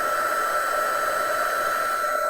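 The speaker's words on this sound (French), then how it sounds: "Voilà le bruit du pistolet chauffant." A Stampin' Up heat gun running at speed 2 gives a steady, loud, even blowing whoosh with a constant motor hum. It carries on alone with no pauses and no talk.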